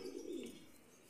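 A pigeon of a golden breeder line coos softly once, a short low throaty call heard faintly up close in a quiet setting.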